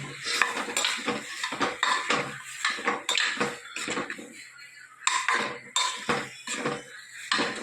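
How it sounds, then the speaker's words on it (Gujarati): A spoon scrapes and clatters against a pan as seasoned rice is mixed with curry leaves, hing and salt, giving repeated close metallic strokes with a light sizzle underneath and no voice. "સરસ બધી વસ્તુ આપણે મિક્સ કરી લઈએ"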